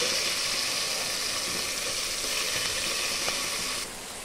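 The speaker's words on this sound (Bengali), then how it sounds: "পোলার চালগুলি দিয়ে দিব।" Polao rice, with chopped garlic and whole cumin already in the pan for khichuri, hisses and sizzles steadily in hot oil and fades slightly at the end.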